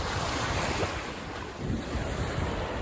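Lake Erie waves wash over a beach beside the ruins of an old amusement park, a loud, continuous rushing surf with heavy wind buffeting the microphone and no talk.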